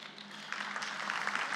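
Town meeting audience applause, a steady wash of many hands clapping that grows slightly louder over a brief stretch.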